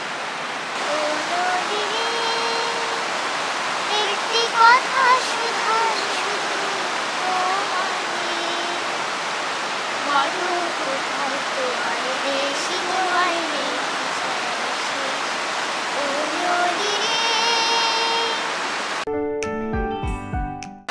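Steady rushing river water fills the whole stretch, loud and continuous, with a voice singing softly over it, at Dawki, Meghalaya.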